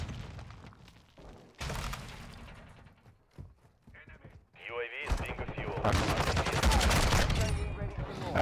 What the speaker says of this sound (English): I keep getting hit markers with the shotgun